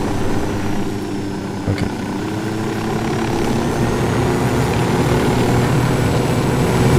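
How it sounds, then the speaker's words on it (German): In Ghost Recon Wildlands, a gunship aircraft with a Gatling gun drones loudly and steadily overhead, a continuous engine and propeller hum that swells slightly toward the end, with one short spoken word early on. "was ist das denn für ein Flugzeug-Gatling-Ding?"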